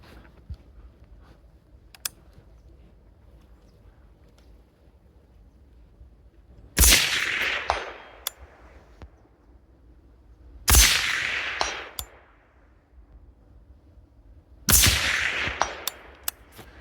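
Three rifle shots striking steel targets downrange at about 200 yards on a shooting range, each a sharp crack followed by a short ringing decay, evenly spaced roughly four seconds apart against a quiet background.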